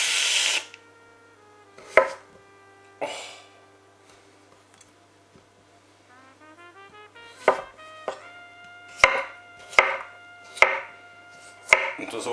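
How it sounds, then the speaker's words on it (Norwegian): A knife chops potatoes into cubes on a new cutting board, with sharp, crisp knocks against the wood, first spaced apart and then a quicker run of cuts near the end, in a quiet kitchen. "så skjærer jeg de ned i terninger, så de koker kjappere. Dette blir første kuttet i den nye fjæla."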